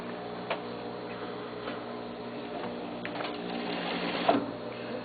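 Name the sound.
sewing machine stitching a sleeve seam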